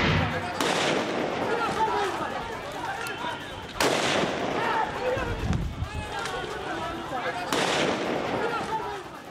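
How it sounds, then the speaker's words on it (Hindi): Police guns fired into the air during a clash with protesting employees on a Patna street, heard as three sharp loud bangs spaced several seconds apart, each ringing out over continuous crowd noise and commotion. "आसमान में गोलियां दागी जा रही थी"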